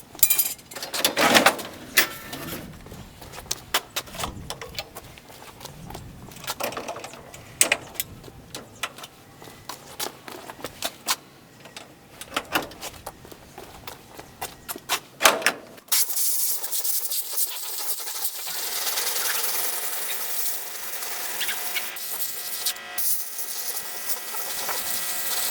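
An air compressor blows out a car radiator: after a stretch of scattered clanks and knocks of handling, a loud, steady air-blast hiss starts abruptly and continues without a break to the end.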